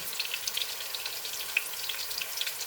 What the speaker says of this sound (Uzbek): piyozimizni yaxshilab qovuramiz